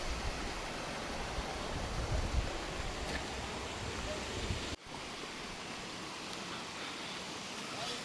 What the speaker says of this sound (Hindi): नीचे पानी बह रहा है मस्त।